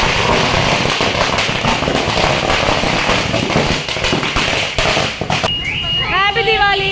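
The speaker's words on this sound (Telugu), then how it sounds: "టపాసులు." Diwali firecrackers burst near a home during festival celebrations, a dense run of loud crackling pops that thins out before a short whistling sound at the end, with people talking around them.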